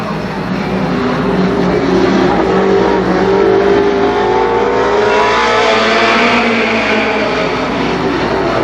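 Stock race cars roar around the oval at Columbus Motor Speedway, a loud continuous engine drone with pitch shifting as the pack passes, no voices heard.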